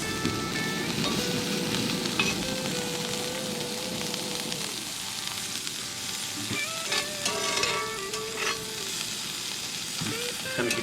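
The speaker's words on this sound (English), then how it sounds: "get that fried up." Vegetables frying in a pan on a camp stove at a state park campsite, a steady close sizzle with crackling and stirring scrapes throughout, loud and continuous with no talk.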